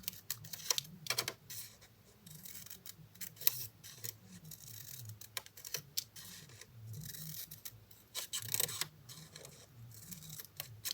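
Scissors snip V shapes out of folded paper in a steady run of sharp, close cuts and crisp rustles over about eleven seconds, with a low murmur underneath and no clear speech.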